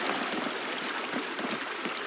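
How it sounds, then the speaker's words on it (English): Continuous soft trickle of water running from an open faucet in the video game Animal Crossing, a steady close stream with no other sounds. "how dare you leave the faucet open?"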